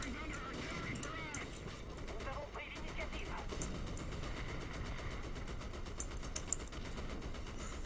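Gunfire from tanks and artillery in the War Thunder video game crackles continuously at a distance, with occasional sharper shots poking through a dense battle din while players talk over it.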